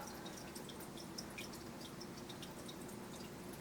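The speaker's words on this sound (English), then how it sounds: "I dripped water and it pulled the blue of her eyes out" Water dripping onto a watercolor-style portrait painting, a quiet scatter of tiny soft plinks and taps over a faint steady hiss, close and low in level, with no talking.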